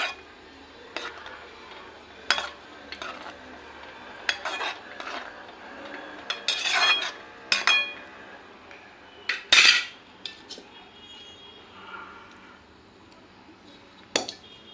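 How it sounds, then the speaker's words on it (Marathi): A spoon stirs chopped coriander into gram flour (besan) batter in a bowl for a coriander vadi. Irregular metallic clinks and scrapes against the bowl come close up, with soft rustling in between. "त्यानंतर याच्यात लगेच टाकून देते मी कोथिंबीर मध्ये आणि सगळं मिक्स करून घेते."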